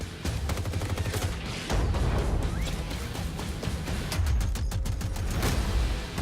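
Automatic gunfire in Call of Duty: Modern Warfare (2019) multiplayer, dense rattling bursts of rapid shots layered over booming impacts, loud and continuous throughout.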